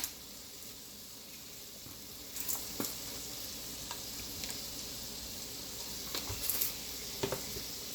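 Shrimp frying for Jamaican pepper shrimp with spicy Jamaican fish seasoning, stirred in the pan, giving a steady close sizzle with a few brief scraping clicks of the spoon and no talking.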